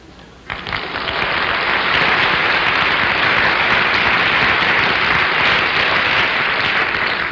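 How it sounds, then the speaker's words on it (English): Studio audience applause on a television game show, a loud sustained roar of clapping that swells in abruptly after a quiet start and holds evenly. "Did you like the applause?"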